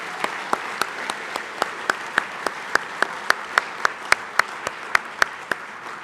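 Audience applause at a school assembly at Saint Johnsbury Academy, with a few loud, sharp claps ringing out in an even rhythm over a softer wash of clapping from the crowd.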